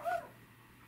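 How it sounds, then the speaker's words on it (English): A single short dog bark or yip from a dog outside in a backyard, faint and distant through a window, followed by quiet. "he is outside my window here barking out in the backyard"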